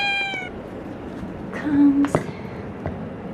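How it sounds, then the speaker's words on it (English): A cat meows a couple of times, mid-range and fairly close, mixed with a soft human voice and quiet background rustling. "Come on, kitty, kitty. Meow."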